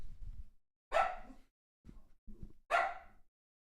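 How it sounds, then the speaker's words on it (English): Dogs bark in the background with two sharp, loud barks about two seconds apart, separated by softer low grumbles and yips, with short silences between. "The sign that you will see above all others are hounds barking randomly in the"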